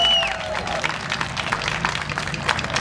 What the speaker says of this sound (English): Everybody, please give a round of applause for Miss Jean Truthart.